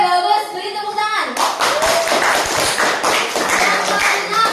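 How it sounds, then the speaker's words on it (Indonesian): A classroom full of children bursts into lively clapping right after a woman teacher's brief speech, the applause continuing steadily with scattered voices mixed in. "Beri tepuk tangan."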